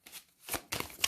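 Tarot cards shuffled for a cross spread in a two-part burst, a soft riffling rustle then a brighter flurry of card edges slapping together, close and alone with no voices.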